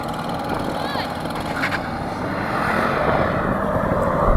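Audi RS6 Performance, BMW M5 and AMG E63 S at full throttle in a drag race, a loud, steady engine roar with rushing wind that builds toward the end, voices faintly mixed in.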